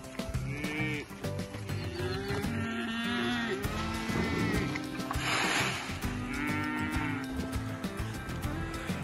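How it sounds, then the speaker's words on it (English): Cattle on a farm moo repeatedly, several long low calls overlapping near and far, with other livestock noise in the background and no talk. "All the cows are coming up here."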